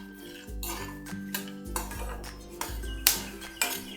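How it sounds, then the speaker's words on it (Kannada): Peanuts roasting in a kadai over medium to low flame, stirred with a metal spatula, giving repeated scraping clinks and knocks against the pan in an irregular rhythm, close and fairly loud. "ಮೀಡಿಯಮ್ ಟು ಲೋ ಫ್ಲೇಮಲ್ಲಿ ಕಡಲೆಕಾಯಿ ಬೀಜನ ಚೆನ್ನಾಗಿ ರೋಸ್ಟ್ ಮಾಡ್ಕೊಳ್ಳೋಣ"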